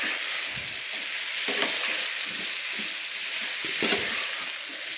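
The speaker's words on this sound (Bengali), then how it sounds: "মেটে আলু ডিম আমি মশলার সঙ্গে কষিয়ে নিয়েছি" Eggs and yam frying with spices in a pan, a loud dense sizzle with occasional stirring scrapes, continuous and close.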